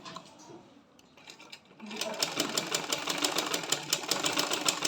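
An electric sewing machine stitches a pant piece, starting after a quiet moment and running into a fast, steady mechanical rattle of needle strokes at close range.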